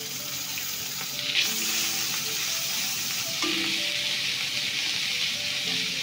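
Spice paste of ginger, cumin, coriander and tomato fries in oil for a fish curry with eggplant, making a steady sizzling hiss broken by a couple of clinks and stirs in the pan.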